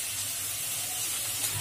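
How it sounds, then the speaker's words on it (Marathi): Chopped onion sizzling as it fries in oil in a pan, a steady close hiss and crackle with no breaks and no talking. "कांदा आपला परतत आलेला आहे, तेल पण सोडू लागलंय"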